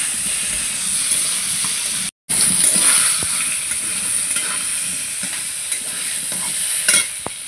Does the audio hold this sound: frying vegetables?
yes